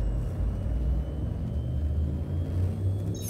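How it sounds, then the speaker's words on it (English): An Elite Dangerous spaceship's frameshift drive charges with a steady, deep rumbling engine drone that holds evenly, with a faint high whine building near the end. "Frameshift drive charging."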